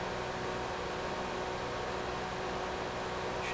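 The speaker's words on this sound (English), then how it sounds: "Here's some white noise for you." Steady, dense broadband hiss holding at a constant loud level throughout, with no variation or other sounds, heard during a Gran Turismo 3 racing game session.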